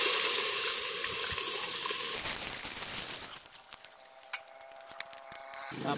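Water splashed into a hot pan while cooking tuway bursts into a loud hiss of sizzling. The sizzle fades after a couple of seconds into a quieter simmer, with a few faint clinks.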